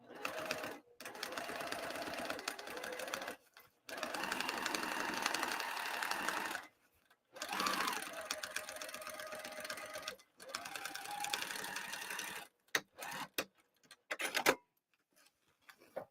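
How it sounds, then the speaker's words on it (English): A sewing machine stitches exterior fabric over foam on the outside of an Mkoba bag, running in several sustained bursts with brief pauses between, then short stop-start stitches at the end, close and clear. "I'm going to sew on the exterior fabric, not the waterproof canvas, the exterior fabric."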